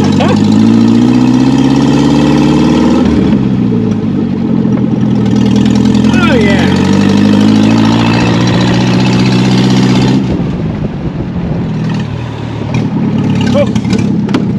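A barn-find hand-built custom Nash Metropolitan runs after 36 years, its engine idling loudly and steadily with a rough, knocking edge and a pitch that rises and falls as it is revved, while people talk over it.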